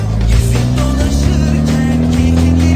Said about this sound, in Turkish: camlarımızı açalım da arabanın sesini duya duya gidelim. Çünkü güzel bir egzoz var arabamızda.